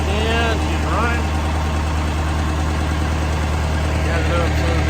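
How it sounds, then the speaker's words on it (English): An Allis Chalmers 715B backhoe engine, just reinstalled, runs at a steady idle with a deep, constant low rumble, close and loud, while someone talks over it. "All right, we got the engine back in, she's running."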